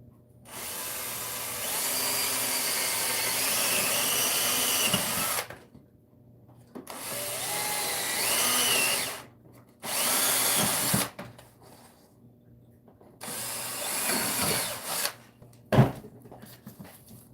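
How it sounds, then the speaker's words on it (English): Power drill boring mounting holes into a part to attach it to a head form, four bursts of whirring drilling of a few seconds each separated by short pauses, close and loud. "So, I drill a few holes in this to mount it to the head"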